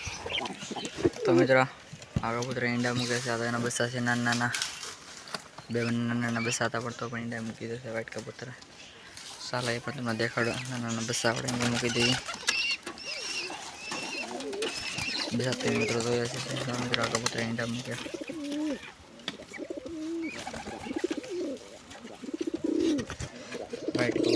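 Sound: pigeons cooing

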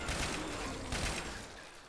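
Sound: gunshots in the video game Left 4 Dead 2

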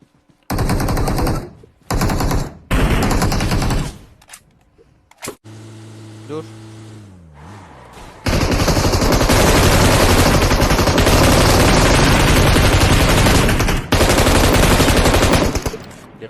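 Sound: gunfire in a video game

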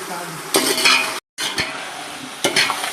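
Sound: tomatoes frying in oil and ghee

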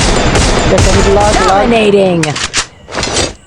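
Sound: gunfire in a video game

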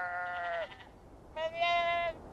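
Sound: sheep bleating in Beyond: Two Souls video game

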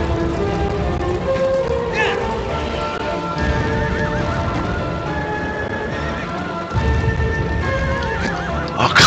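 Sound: horse neighing and hooves, video game

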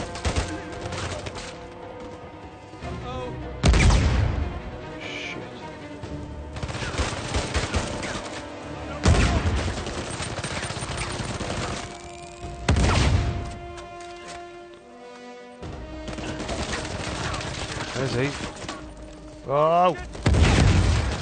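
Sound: grenade launcher and gunfire in video game Uncharted 4

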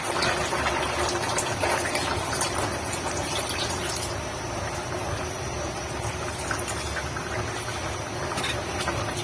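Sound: pouring first extract of coconut milk into pot

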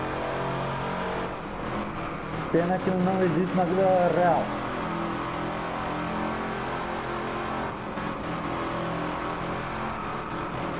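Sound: engine roar of Wombat Typhoon 2-litre car in video game Drive Club

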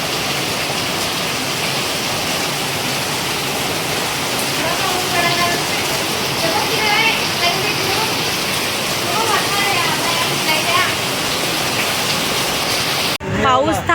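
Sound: heavy rain falling

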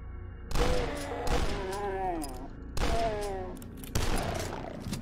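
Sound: enemy gunfire in the video game Doom 2 with Dusk weapons

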